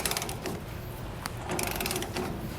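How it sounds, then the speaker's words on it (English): Wrench working the nut loose on a leaf spring bolt under a trailer axle, a continuous close metallic grinding and ratcheting clatter with no voices. "Want to make sure that you're loosening the nut and not the bolt."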